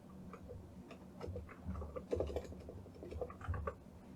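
Computer keyboard keys pressed for a Ctrl Alt Space shortcut, a quiet, close run of irregular clicks and taps with no talking.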